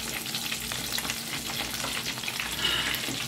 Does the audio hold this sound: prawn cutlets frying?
yes